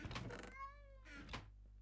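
A cat meows in a video game, one clear drawn-out meow framed by faint soft clicks over a low electronic hum, quiet and close.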